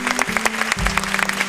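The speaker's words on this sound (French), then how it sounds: "Je vous demande donc d'applaudir les ballerines du CNRT." Audience claps for the CNRT ballerinas at a carnival show by a swimming pool, brisk clapping over a sustained musical tone, short and fairly loud.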